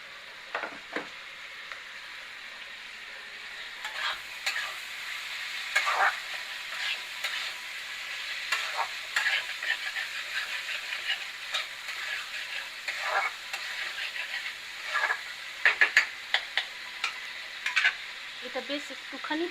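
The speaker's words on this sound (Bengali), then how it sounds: "আমার এটা ভালোই ভাজা ভাজা হয়ে গেছে" Potatoes and paneer frying in a pan with a steady sizzle, stirred at intervals with sharp scraping and clacking touches, close and moderately loud.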